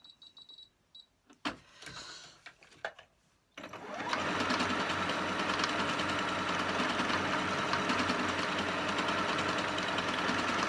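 A Singer 8500Q sewing machine stitches a decorative heart pattern, starting after a few soft clicks and handling noises, then running as a steady, loud, continuous mechanical whirr with a fast rhythmic needle clatter until the end.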